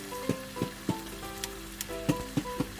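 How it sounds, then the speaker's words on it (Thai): Chicken steak grilling in a Teflon pan with barbecue sauce, a soft steady sizzle broken by several sharp scraping stirs at irregular intervals, close and fairly quiet with no talking. "เราก็คนไปคนมาย่างไปพร้อมไก่ให้มันสุกพร้อม ๆกันเลยนะครับ"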